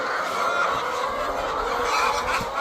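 Chickens in a poultry house during litter removal, a dense, continuous chorus of clucking and murmuring from many birds, with a steady background hum.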